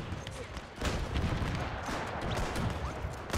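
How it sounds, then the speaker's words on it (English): Artillery and machine gun fire in a WW1 video game, a continuous distant barrage of booms and rattling bursts that grows louder after the first second. "It's almost like the artillery is firing after me."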